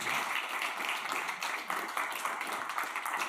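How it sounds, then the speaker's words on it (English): An audience at an academic lecture applauds an organizer, a steady, moderately distant round of clapping from many people, lasting a few seconds with little talk. "give a big round of applause to Barbara right now, just for all of her hard work here"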